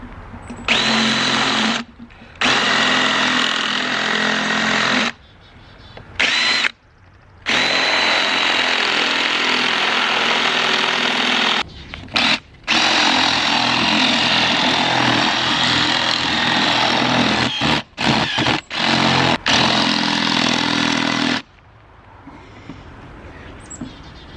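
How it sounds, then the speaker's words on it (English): Power drill boring into a concrete statue for a reinforcing bolt, a loud close whirring grind in long bursts broken by several short pauses as the trigger is released and squeezed again. "So I'm going to go ahead and drill that."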